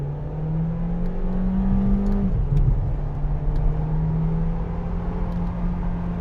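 A VW Golf 8.5 R-Line in Sport mode accelerating at full throttle, its engine drone rising steadily in pitch, dropping briefly at a gear change, then climbing again, loud and close with no talk.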